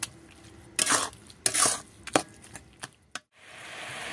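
Cooked grated carrot for carrot laddu is stirred in a pan, giving a few separate scraping and shuffling strokes of a spoon against the pan, near and fairly soft, with quiet pauses between them.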